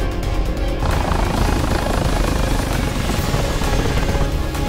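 A Mi-24P attack helicopter flies in the DCS combat simulator, its loud, continuous rotor and turbine roar filling the whole stretch at close range without any speech.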